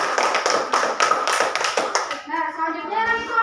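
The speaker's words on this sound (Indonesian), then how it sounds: "Beri tepuk tangan untuk temannya." Students in a vocational high school classroom in Medan clap for classmates, a brief burst of close, dense hand claps over about two seconds, then a teacher's voice speaks as the applause fades.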